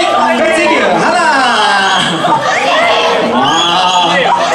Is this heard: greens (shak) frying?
no